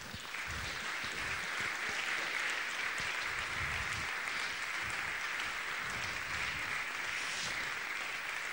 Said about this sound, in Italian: a lui e a tutti gli attori veramente va un grande applauso